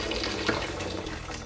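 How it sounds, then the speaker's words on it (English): An instant boiling water tap in a holiday cottage runs in a steady, soft, hissing stream, fairly quiet and close, with no voices over it. "This starts the instant boiling water"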